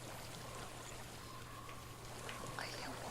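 Steady, soft rush of flowing water in the video game Hellblade: Senua's Sacrifice, a faint, continuous wash of noise with no clear splashes, heard alone.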